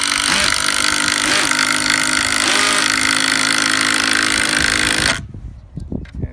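A loud, steady whine and rattle of a Kobalt 24-volt drill and impact driver driving a bolt runs for about five seconds, then cuts off abruptly, leaving quieter scattered knocks and handling noise.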